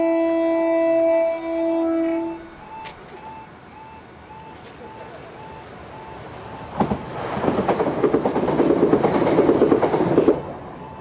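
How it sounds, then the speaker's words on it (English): A train near the South Downs approaches behind a loud two-tone horn, then a level crossing bell pings steadily before the carriages roar past close by with rushing, rattling wheel noise that fades at the end. "Yes, a train is coming, and it's not going to stop here."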